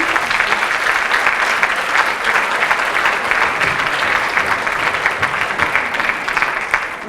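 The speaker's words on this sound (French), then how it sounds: "Bravo, vous pouvez applaudir." An audience at a gender equality forum breaks into sustained, dense applause: many hands clapping loudly and evenly for several seconds, fading slightly at the end.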